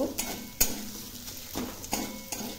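Potatoes are tossed with spices in a wok with a utensil. Faint scattered scrapes and clinks fall at irregular intervals over a quiet low sizzle, with no voices.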